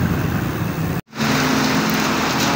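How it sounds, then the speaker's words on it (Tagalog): Heavy rain pours steadily in Naga, Bicol, a dense, loud hiss filling the clip, broken by one brief moment of near silence before the downpour resumes. "Grabe lakas ng ulan."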